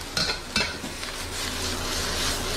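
Vegetables and frozen peas stir-fried in a metal wok, two quick clanks of a utensil against the pan followed by a steady loud sizzle, close up.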